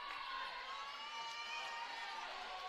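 Crowd cheering and shouting at a women's college volleyball match between Georgetown and Campbellsville, a steady distant roar of voices throughout.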